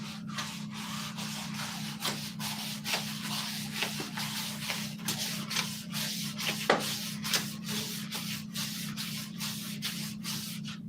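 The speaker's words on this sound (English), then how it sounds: "I'll just sand the liner" Steady back-and-forth rubbing of 1200 grit wet and dry sandpaper across a liner, in rhythmic close strokes over a low constant hum, with no voices.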